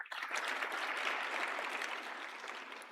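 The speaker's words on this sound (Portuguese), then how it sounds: "Vamos aplaudir o Senhor, porque é muita bondade." A church congregation claps in praise of the Lord during a Portuguese sermon, a full, even burst of applause sustained for about three seconds and tapering slightly at the close.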